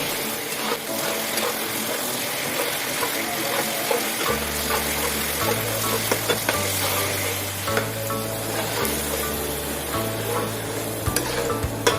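Doi potol, pointed gourd in a yogurt gravy with garam masala, simmers and sizzles on low heat in a pan, giving a continuous hissing bubble. A low droning hum joins partway through.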